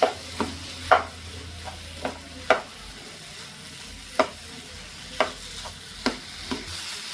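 A spoon scrapes and stirs a bitter gourd (hagalakayi) mixture in a pan over a low sizzle, with about ten distinct, fairly regular strokes heard up close and no voices.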